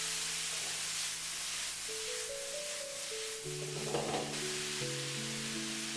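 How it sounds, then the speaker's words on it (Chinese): Broccoli, drained of water, tossed and stir-fried in a hot wok with tomato, ginger and garlic, giving a steady close sizzle with soft scraping turns, alone without speech over a held musical background. "接下來把控乾水分的西蘭花直接倒在鍋裡，快速翻炒均勻"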